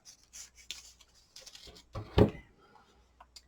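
Vellum paper being cut by hand for a craft tag: a short, crisp slicing rasp in the middle, with soft rustling and handling before and after.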